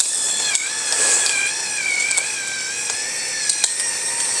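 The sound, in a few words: electric pepper grinder grinding peppercorns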